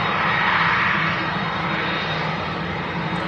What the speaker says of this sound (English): the Turkish Airlines 330 making the early rapid exit taxiway to vacate 23 right